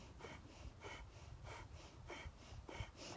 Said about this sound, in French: on fait la ventilation, la respiration abdominale rapide